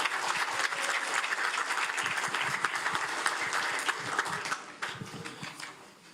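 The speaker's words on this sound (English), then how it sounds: "Can we give him a round of applause?" Applause fills a city council chamber during a reorganization meeting, a roomful of hands clapping briskly before thinning and tapering off in the last second or so.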